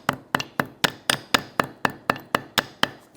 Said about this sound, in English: use a hammer to smash it down